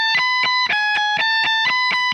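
An electric guitar plays a fast tremolo-picked run, with rapid, evenly repeated notes in clipped groups, close and loud, with no voice.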